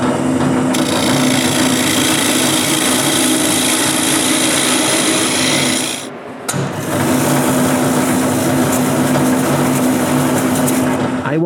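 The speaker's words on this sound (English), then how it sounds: "I turn another cylinder with a tenon the size of the box and cut it off." A wood lathe spins a wooden cylinder for a candy bowl, giving a loud, steady whirring drone with a constant hum. It dips briefly partway through, then carries on alone without talk.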